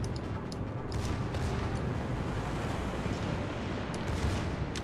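Heavy naval gunfire from a warship in World of Warships, a steady rumbling roar of big-gun blasts and booming under continuous low battle noise, with no clear separate shots.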